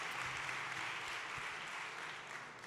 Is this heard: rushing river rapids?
no